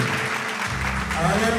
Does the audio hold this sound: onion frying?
no